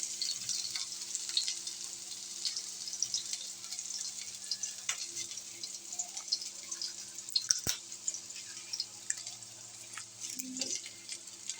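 Onions frying in oil in a pan for a fish curry, a steady bright sizzle with scattered crackles and a few sharp pops, close and continuous without talk.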